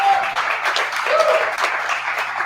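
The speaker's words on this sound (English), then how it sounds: "Please give your loudest round of applause right now for Hannah Skewes." Audience applause for a storyteller at a fundraiser for The Mercury Cafe, steady enthusiastic clapping sustained at even volume, with faint cheers under it.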